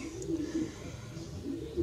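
Pigeons coo faintly in a soft, low, continuous murmur at a loft, somewhat distant.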